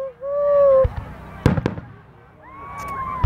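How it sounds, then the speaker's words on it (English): Fireworks at a festive display go off in several sharp, close bangs, mixed with rising and falling whistling tones from rockets streaking upward. "So many fireworks and shining lights."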